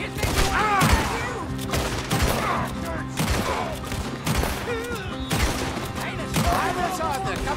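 Gunfire crackles through a Red Dead Redemption shootout in an alley, with repeated sharp shots over a steady musical score while voices shout over it.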